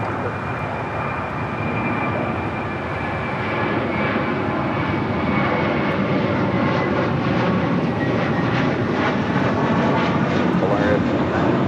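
Heavy American jet airliner on its takeoff roll from runway 25 right at LAX, a loud, steady broadband engine roar that holds throughout and slowly builds, with faint talk in the background.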